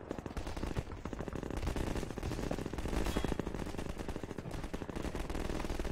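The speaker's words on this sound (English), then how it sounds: "oh, they're shooting at somebody" Half-Life 2 gunfire crackles as continuous rapid automatic shots at moderate loudness, a dense steady rattle running throughout without speech.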